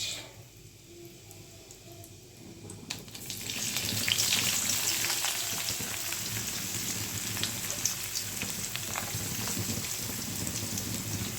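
A large onion added to oil after a cumin tempering, a quiet sizzle that swells into a loud, dense rain-like frying hiss and carries on steadily with faint crackles.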